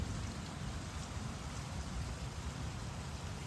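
Heavy rain pours steadily on a summer afternoon in a Punjab village, a dense, even hiss with no break, moderately loud and without voices.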